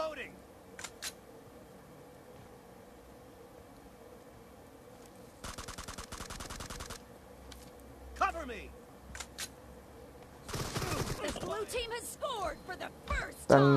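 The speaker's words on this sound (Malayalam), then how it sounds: "ഞാൻ വെടി പൊട്ടിച്ചിട്ടുണ്ട്" Gunfire in a PUBG match on the Miramar map, with scattered single shots and two dense bursts of rapid automatic fire, moderately loud, under occasional voice chat.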